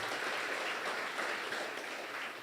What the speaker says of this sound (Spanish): Un aplauso al Señor